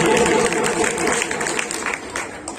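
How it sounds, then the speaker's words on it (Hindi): A crowd at a motivational talk on education applauds with loud, continuous clapping that tapers slightly toward the end, a few scattered claps lingering. "एक बार जोरदार तालियों से स्वागत कीजिए"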